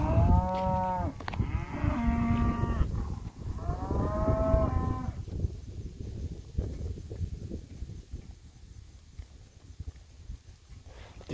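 Cattle on a morning cattle drive to a farm paddock give several loud, drawn-out moos in the first half, then the herd's shuffling and hoof noise carries on more quietly without calls.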